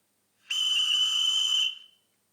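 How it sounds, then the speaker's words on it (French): Station master's whistle from a LokSound model train decoder: a single shrill, steady tone lasting about a second, clear and alone against silence. "En F7, un autre coup de sifflet du chef de gare."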